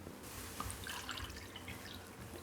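Water poured into a pan for sugar syrup for angoor rabdi, a faint, soft trickle with scattered drips and splashes in a quiet kitchen.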